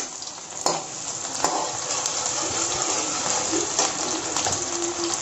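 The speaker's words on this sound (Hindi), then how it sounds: "ऑयल गर्म हो गया है, अब हम इसमें डालेंगे कटा हुआ प्याज" Chopped onion tipped into hot oil in a pan for street-style veg chowmein, setting off a steady close sizzle with a few stirring clinks of a utensil against the pan.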